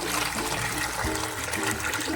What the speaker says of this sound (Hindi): इसी में मैं पानी मिला दूँगी